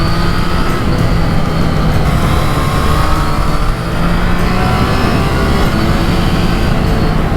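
A 2025 Triumph Trident 660 motorcycle engine drones steadily and loudly throughout with rushing wind noise while riding at speed, its pitch shifting slightly as it rides.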